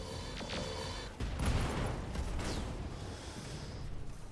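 Mech weapons fire in the Battletech Roguetech video game, with a dense rumbling barrage of shots and impacts that swells after a brief lull.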